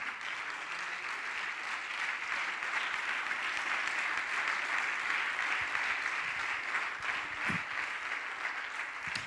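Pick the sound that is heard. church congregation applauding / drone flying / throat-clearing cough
church congregation applauding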